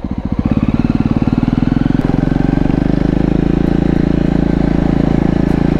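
A Jawa Perak motorcycle on the move produces a loud, close, steady thrumming engine note with a fast, even pulse throughout.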